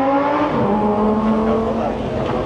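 Car engines rev loudly and steadily at a car meet, a sustained roar with shifting pitch and faint crowd noise behind it.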